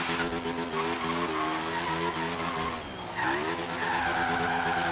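Reliant Supervan drifting in Forza Horizon 3, tires skidding and squealing loudly over a continuous revving engine, the engine pitch dipping briefly before climbing again.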